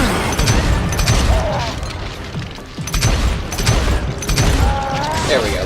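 Gunfire in the Western shooter Call of Juarez Gunslinger: loud bursts of shots and booming impacts in quick clusters with a brief lull midway, over game background noise.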